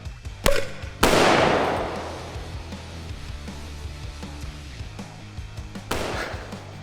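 Grenade launcher firing a round with a dual 4.5-second and impact fuse: a sharp report, then a louder blast about half a second later that rolls away, and another thump near the end.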